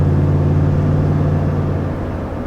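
A 2020 Toyota Tundra TRD Pro pickup picking up speed, its engine giving a steady, loud low drone with a rising whir that holds for the whole stretch, with no talk over it.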